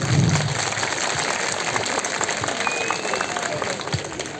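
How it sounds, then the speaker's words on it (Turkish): A concert crowd at a show for the Erbaa disabled association fills the hall with dense, continuous applause, a steady wash of many hands clapping at an even level throughout. "Bir alkış istiyorum bütün kardeşlerimize."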